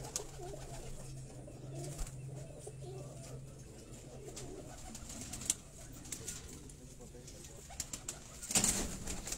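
Pigeons in a breeder's flying loft coo in a low, continuous murmur, with soft rustling and a brief louder burst near the end.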